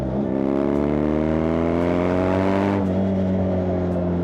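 A BMW R nineT Scrambler with a 1170cc two-cylinder boxer engine accelerates hard on a straight road, its loud, close engine note climbing steadily in pitch, briefly dropping at a gear change, then rising again.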